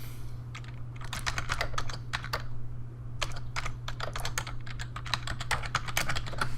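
Rapid, uneven keystrokes clatter on a computer keyboard, close and clear, in bursts with short pauses over a steady low hum.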